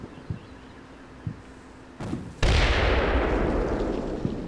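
Enemy gunfire and artillery in the wargame Combat Mission Black Sea: a few sharp, distant reports, then a heavy blast that swells into a loud, sustained rumble before fading slowly.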